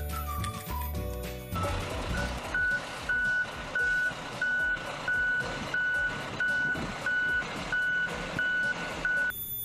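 A toy concrete mixer truck gives a run of loud, evenly spaced reversing beeps close by, about a dozen in a row, with mechanical clatter underneath.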